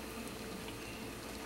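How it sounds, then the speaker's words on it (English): A pot of turkey ham broth soup simmers on a slow boil, giving a soft, continuous bubbling and watery rush heard close up and alone. "now I'm just going to reduce or let boil slowly"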